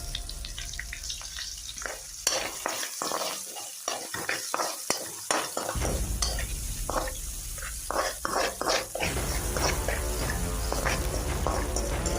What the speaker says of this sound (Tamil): எண்ணெய் நல்லா காஞ்சிருச்சு. ஸோ கடுகு போட்டேன். அடுத்து கருவேப்பிலை போட்டாச்சு